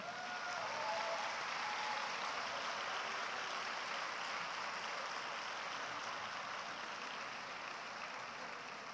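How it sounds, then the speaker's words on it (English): Sustained audience applause after a student play at a school event, a dense steady wash of many hands clapping, even and continuous throughout with no voices standing out. "Please encourage the students with another huge round of applause"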